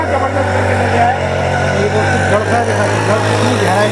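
A Chetak 4 HP engine on a power tiller runs steadily nearby, a constant low hum with a strong droning tone throughout, with mechanical clatter and chatter layered on top.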